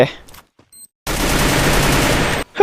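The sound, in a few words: grenade explosions in the Free Fire video game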